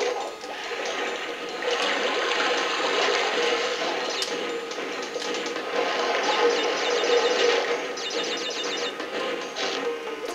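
Rising water in the Crash Bandicoot Warped video game, a continuous gushing, filling roar that holds steady throughout, with brief fluttering game effects layered on top and no voices.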